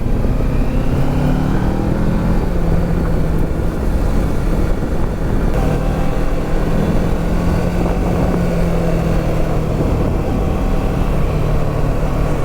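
A car rolls steadily along a gravel road through Glen Etive in the Scottish Highlands, a continuous rough crunch and rumble under a low engine drone, with no talking.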